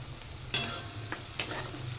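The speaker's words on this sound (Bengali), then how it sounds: "গোলমরিচের গুঁড়ো দিয়ে নাড়াচাড়া করি" Fried food is tossed with black pepper powder in a pan: a faint continuous sizzle with two sharp spatula scrapes and a lighter tap in between, close by.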